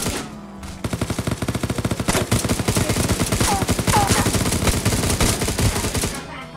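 Rapid automatic gunfire in the Rules of Survival battle royale video game, a long unbroken burst of sharp repeated shots, loud and close, with faint voices underneath.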